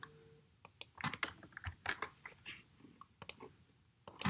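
Fingers type on a computer keyboard nearby, quick clusters of key clicks separated by brief pauses, fairly quiet and with no talking.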